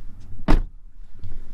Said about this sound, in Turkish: Kapımızı kapatıyorum.